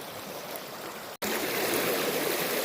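A creek flows over exposed bedrock in a wooded cave area, a steady close rushing wash that cuts out abruptly for a split second before resuming slightly louder.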